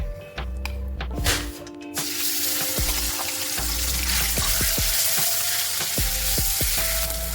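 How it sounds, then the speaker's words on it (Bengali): Ground bean paste, a mashed shim bean bhorta, hits hot oil in a heated wok and bursts into a loud, steady sizzle with sharp crackles and scraping stirs throughout. "তেলটা গরম হলে এবার আমি বাটাটা তেলের মধ্যে দিয়ে দিলাম"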